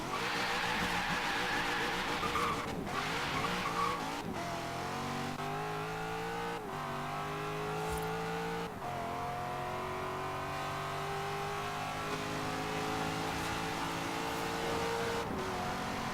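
A tuned 995 hp Corvette C7 Z06 in the racing game Forza Horizon 3 screams through a full-throttle run, engine pitch climbing repeatedly with sharp drops at each gear shift, loud and continuous with no talk.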